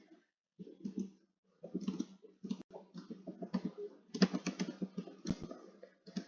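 Someone typing on a computer keyboard at close range: irregular bursts of soft key clicks, briefly pausing and then continuing in a quick patter, with no talk over it.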